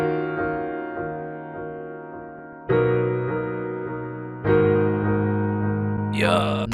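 Piano chords treated with delay and reverb in a melodic beat, three long sustained chords that ring and decay into a washy echoing tail, with a brief vocal-like sound at the end.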